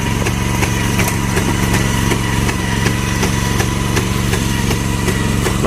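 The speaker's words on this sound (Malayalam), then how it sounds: "മെഷീൻ തന്നെ ഞാറ് ഇങ്ങനെ നട്ട് നട്ട് പോവുകയാണ്" A rice transplanting machine planting paddy seedlings runs with a loud, steady small-engine drone and a regular mechanical clatter that stays constant and close throughout.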